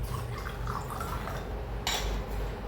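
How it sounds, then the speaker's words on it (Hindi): RO-filtered water poured into a glass as a soft, steady liquid trickle with a brief brighter splash near the end, faint and with no talking. "RO का पानी डाल रहा हूँ"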